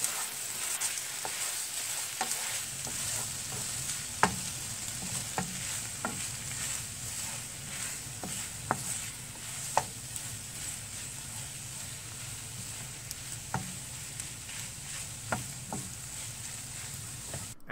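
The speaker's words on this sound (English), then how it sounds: "we can still hear that slight sizzling noise" Italian sausage and peppers sizzle softly and steadily in a pan, with occasional light clicks and scrapes of a utensil stirring, no voices.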